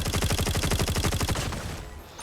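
The Grau rifle with the mythic Phantom essence skin fires a rapid, even burst of automatic shots in a video game, loud and close, then the firing stops and a faint tail fades out.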